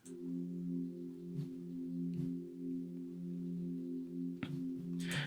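An ambient synth pad from GMS for deep tech house sustains as a soft, steady chord with highs and lows cut, sitting quietly with a few faint clicks and rustles over it.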